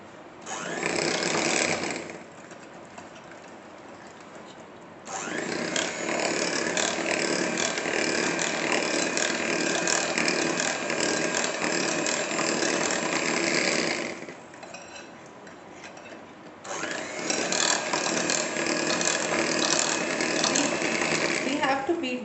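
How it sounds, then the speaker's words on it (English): Electric hand beater whirring steadily as it creams desi ghee for wheat coconut cookie dough, running loud in long continuous stretches with brief pauses between bursts. "we have to beat them very well with the help of this beater"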